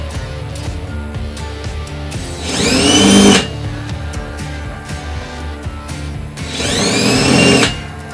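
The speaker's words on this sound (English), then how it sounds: "So now I have to actually drill and make a" A power drill whirs in two bursts of a couple of seconds each, its whine rising as it spins up, separated by quieter shop noise, drilling a hole while installing a Nature's Head composting toilet.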